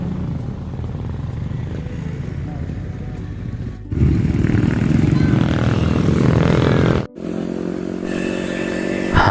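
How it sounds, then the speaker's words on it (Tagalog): Motorcycle engine on a steep mountain road, a steady loud droning rev with rattling and clatter, its pitch shifting as the rider climbs, with a short break partway through. "karaniwang transportasyon papunta sa kanila ay ang motorsiklo."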